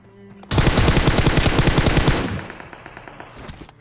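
M4 rifle firing in PUBG Mobile, a loud close burst of rapid automatic shots lasting about two seconds before tailing off into a fading echo.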